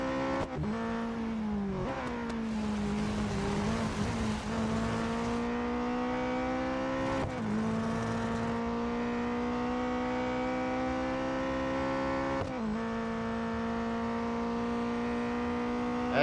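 A Koenigsegg Jesko race car engine in the Real Racing video game, a loud, sustained mechanical whine that climbs in pitch, then drops sharply with each gear shift, over about sixteen seconds.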